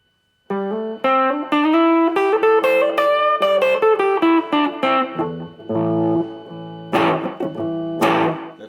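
Tagima TW 55 electric guitar played through a Line 6 Spider V20 amp on its crunch preset: a run of distinct plucked notes with mild overdrive, then sustained chords with strummed accents, loud and close, no talking.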